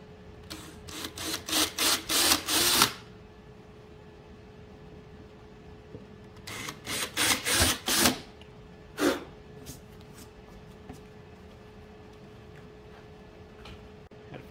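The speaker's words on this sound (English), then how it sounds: "And this right here, you will have to pre-drill." A power drill pre-drills a screw hole into the wood of an Arcade1Up arcade cabinet during a Nintendo Switch conversion kit install, heard as two close bursts of rapid whirring, grinding pulses, then a single short final burst.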